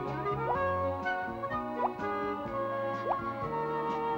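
Cartoon drops of the purest water fall one after another as bright, rising, plinky drip tones, set over a gentle musical backing.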